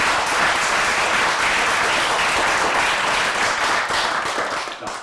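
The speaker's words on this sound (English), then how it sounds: "Round of applause, I think." Sustained, dense applause from a meeting audience at a workplace improvement report-out, steady clapping filling the room before easing slightly at the end.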